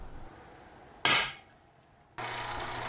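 A hammer strikes a center punch into an aluminum plate, giving one sharp, ringing metallic hit that decays over about half a second, followed later by a steady background noise.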